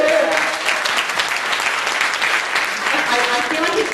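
A lecture audience applauds loudly and steadily, many hands clapping at once in a dense, sustained wash that carries through the whole stretch.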